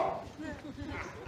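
A dog barks at night in a neighbour dispute, short yipping barks repeating under and between people talking nearby.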